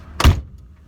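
A single door shuts with one solid, close thunk, followed by a quiet room.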